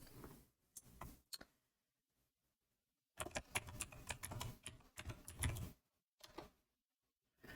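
Computer keyboard typing in quick clustered bursts of clicking keys, close and fairly quiet, with short silent gaps between the runs of keystrokes.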